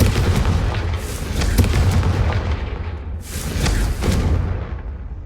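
Confringo, a fiery explosion spell cast in the video game Hogwarts Legacy, with a loud, booming blast over a continuous rumble and further bursts a couple of seconds later, and no talking.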